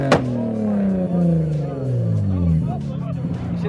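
A McLaren Senna GTR at a JDM car meet, its engine loud and close, with a revving tone that climbs and falls in sweeping pitches while voices chatter in the background.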